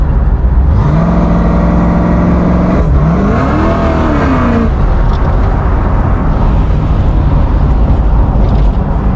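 A 350 small-block Chevy V8 in a 1981 Pontiac Firebird pulls hard through a rising rev, shifts, and climbs again before easing off into a steady rumble, loud and close from inside the car.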